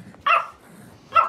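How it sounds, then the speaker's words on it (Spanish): A dog barks twice close by, two short sharp woofs a second apart, with quiet background between them. "Oye, ¿cómo ladra?"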